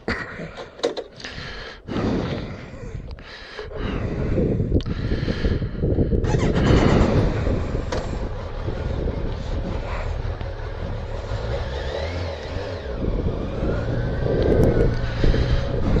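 A Kawasaki Versys motorcycle pulling away on an afternoon ride, with the engine's drone building after a few seconds and then holding steady under heavy wind buffeting.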